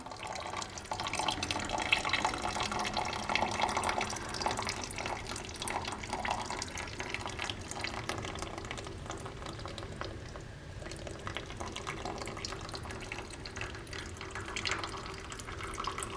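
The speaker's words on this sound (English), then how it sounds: "Now that I poured the pickled ginger juice from the jar in there" Pickled ginger juice pours from a jar into a cooking pot, a continuous soft splashing and trickling stream with faint bubbling, quiet and steady throughout with no speech.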